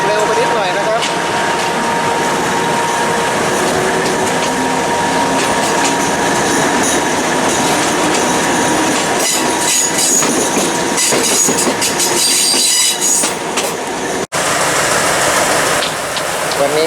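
A steam locomotive train rolls through a station nearby, loud and sustained, with rumbling wheels, clacking over rail joints and occasional squeals.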